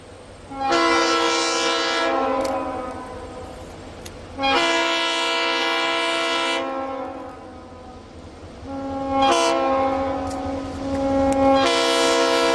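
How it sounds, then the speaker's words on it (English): At a July 4th steam-up railroad event, a train passes sounding repeated long horn blasts, loud and close, with rumbling rail noise between the blasts and no talking. "train"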